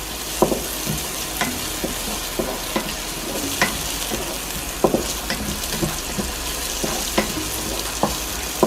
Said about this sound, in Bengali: আমরা এখানে আমাদের চিকেনটা দিয়ে দেবো। পেঁয়াজের সঙ্গে সঙ্গে যেন চিকেনটা এখানে রোস্ট হয়ে যায়।